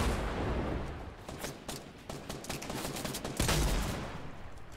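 Rapid bursts of gunfire from the video game Fortnite Battle Royale crackle loudly and almost continuously, with dense overlapping shots and a heavier burst near the end.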